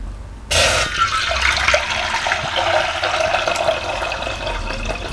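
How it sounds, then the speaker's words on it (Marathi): Water pours from a vessel into a cooking pot on a stove, starting abruptly as a loud, steady splashing gush that continues without a break, close by and without voices. "आता पातेल्यात पाणी घालते।"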